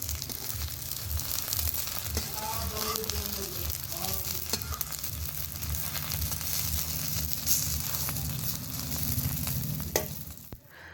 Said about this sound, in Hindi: इन पत्तों को हम दोनों तरफ से पलटाते हुए इस तरह से फ्राई करेंगे।